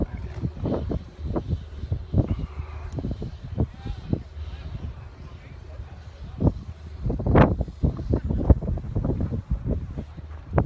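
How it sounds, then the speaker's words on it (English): Gusty wind buffeting the microphone at the Avenal Sandjags Spring Nationals sand drag racing track, a steady rumbling roar under someone talking. "It's pretty good breeze going down the track."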